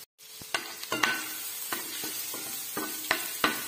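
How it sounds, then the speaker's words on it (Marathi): Ginger garlic paste frying in hot oil in a pan, with a steady sizzle and repeated scraping strokes of a spatula stirring it, close and alone with no talking. "पहिल्यांदा तर आपण आलं लसूण पेस्ट गरम तेलामध्ये तळून घेणार आहोत।"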